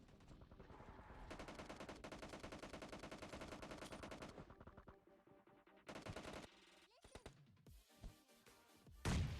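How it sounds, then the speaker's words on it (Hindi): Gunfire from a squad fight in a battle royale video game rattles in long, rapid automatic bursts that fill the first several seconds, then shorter volleys and single shots follow, with a heavier blast near the end. "राइट साइड जो स्क्वाड हाउस होता है उधर से बहुत खतरनाक वाली फायरिंग की आवाज़ आ रही थी"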